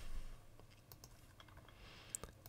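Quiet clicks of typing on a computer keyboard, a short sparse run of light taps over faint background hiss with a sharper click near the end.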